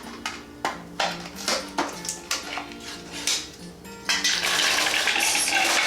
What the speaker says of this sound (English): I'm going to add a whole can of deluxe mixed nuts